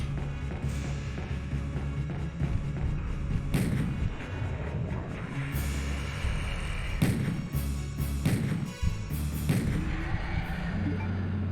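A handgun fires in Resident Evil 2 on PS1, with several sharp, distinct shots spread irregularly over a steady low game ambience.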